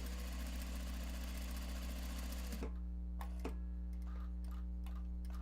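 A sewing machine stitches a holding seam on a custom bag made of Japanese fabric. It runs in a steady, fast mechanical whir, then stops and leaves a low hum with a few scattered clicks and knocks.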